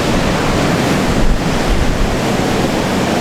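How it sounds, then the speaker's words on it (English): Ocean surf washes steadily along the Baja Mexico coast, a broad continuous roar of breaking waves with some wind noise buffeting the microphone. "Have the beautiful ocean right there."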